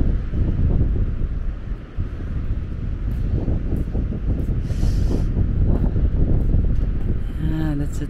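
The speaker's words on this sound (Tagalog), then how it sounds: "Ang lamig ng simoy ng hangin." Cold sea wind buffets the microphone on the coast at Sokcho, South Korea, producing a steady, loud, low rumbling roar that barely lets up.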